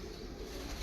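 Royal Teddy pigeons, ringed birds kept in a loft, give a brief low cooing murmur over steady background hiss, close by and moderately soft.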